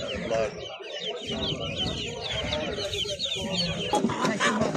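Many chicks cheep and peep continuously in a dense chorus at a poultry market, with adult hens clucking and a person talking faintly beneath the noise.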